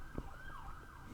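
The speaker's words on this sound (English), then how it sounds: "sirens again. Sounds like I live in a ghetto." A distant wailing siren rises and falls over a low hum of traffic, heard briefly and fairly faint.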